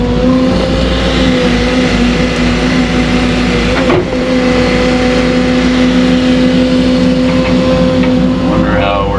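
An engine-driven water pump runs on a construction site where footings are being prepared, giving a loud, steady mechanical drone with a constant hum throughout.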